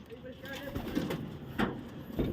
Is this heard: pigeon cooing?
yes